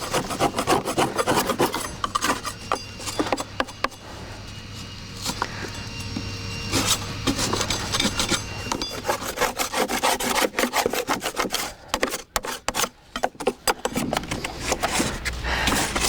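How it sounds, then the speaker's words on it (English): A scraper rasps old dried grass off the inside and rollers of a Flymo lawnmower in a garden, continuous close scratching and rubbing strokes, loud and steady with brief pauses. "I'm just going to clean up in here with a scraper. Get off all the old dried grass."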